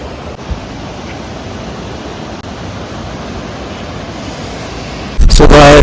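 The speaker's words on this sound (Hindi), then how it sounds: "मनाली ब्यास नदी।" The Beas river flowing in Manali, a steady loud broadband rush of water close by, continuous throughout, with a brief louder burst of noise at the very end.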